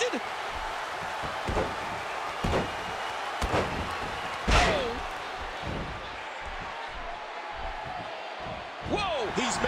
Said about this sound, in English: Oh, scoop slam from Bizarro.